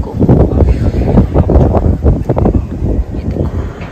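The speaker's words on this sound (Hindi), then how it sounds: "गाइस यहाँ पे बहुत ही तेज हवा है, देखो." Loud gusting wind at Dal Lake, Kashmir, buffets the microphone with heavy low rumble, rising and falling continuously throughout.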